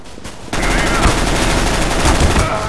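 Sustained rapid gunfire from a first-person shooter video game, loud, dense automatic bursts, starting after a brief quieter lead-in and continuing throughout.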